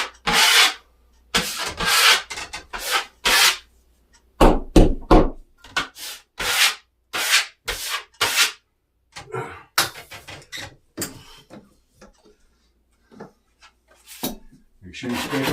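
Filler being scraped off a surface during painting prep, a series of repeated rasping scrapes and rubs in short bursts with pauses between strokes, close and fairly loud.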